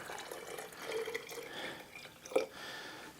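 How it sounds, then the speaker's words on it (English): Distilled water trickles and splashes faintly into an empty jar, a thin, uneven pour with a louder clink near the end. "I'm gonna pour this water into it"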